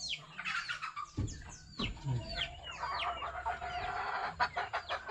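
A four-month-old Macrae Black chicken crossed with Tornado Hatch clucks and chatters in quick, uneven bursts close by, with other fowl calling faintly around it.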